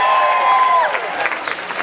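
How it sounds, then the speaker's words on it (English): A crowd at the Nauti Girls 2015 women's fishing tournament in Whangamata cheers and claps in a short loud burst, with whoops and whistles over dense applause. "Give yourself a big cheer."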